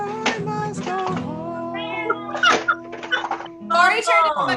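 A person's voice imitates a cat, producing a string of sung, meow-like calls of varying pitch, close to the listener.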